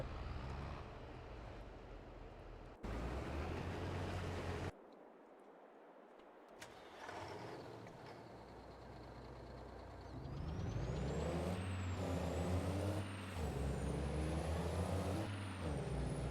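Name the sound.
tractor stopping with air brakes in Farming Simulator 22 video game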